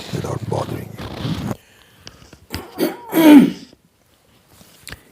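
A man clears his throat during a spoken lecture, a short burst of voice followed by rough, close throat-clearing rasps, then near-quiet with a few small clicks and shuffles.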